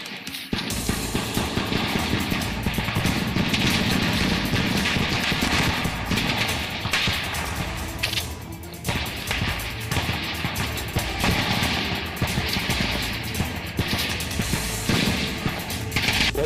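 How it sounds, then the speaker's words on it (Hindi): Gunfire exchange between CRPF forces and Naxalites on the Sukma–Bijapur border in Chhattisgarh: dense, continuous bursts of shots and rattling fire, loud and sustained throughout with a brief lull near the middle. "उधर से भी फायर आ रहा है।"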